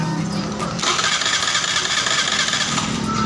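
A Suzuki Burgman scooter engine cranks on its electric starter and catches, settling into a close, steady, buzzing idle that carries on loudly without pause.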